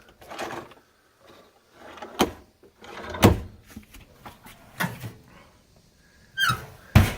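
Several drawers in a truck camper slide and thump open and shut in turn, with short squeaks and sharp knocks spaced over a few seconds, close up.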